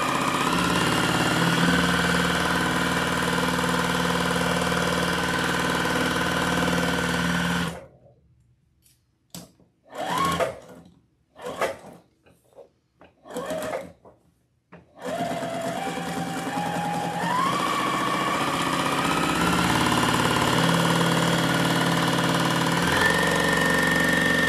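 Sewing machine stitching a fairy princess wreath attachment, running loud and steady for several seconds, pausing into short stop-start bursts, then resuming a long continuous run with a rising whine near the end.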